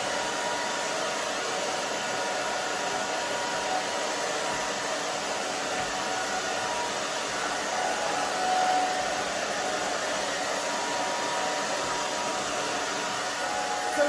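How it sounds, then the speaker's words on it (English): A hair dryer blows steadily and loudly for the whole stretch while fine hair is dried, a continuous airy roar with no pauses and no voices. "So if you move your hair around when you dry it, that's a really good pointer or hint for people with fine hair"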